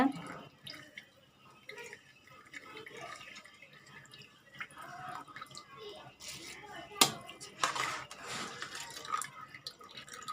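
Water trickles and drips as it drains from soaked rice, splashing lightly in bursts while a person speaks over it.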